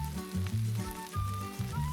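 Food frying in a pan, a crackling sizzle with quick pops layered over a steady hiss, close and moderately loud, alone for about two seconds.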